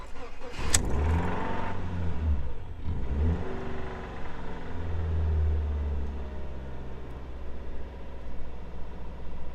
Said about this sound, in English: And now let's start the car.